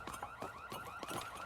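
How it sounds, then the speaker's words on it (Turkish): A car alarm goes off in a video game, its warbling wail repeating in quick regular cycles, loud and unbroken with no talk over it. "Bilmiyorum ki daha demin burada alarm öttürdüydü de."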